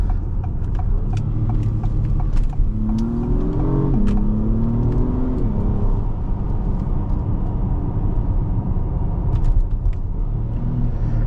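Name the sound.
Acura MDX Type S accelerating and shifting gears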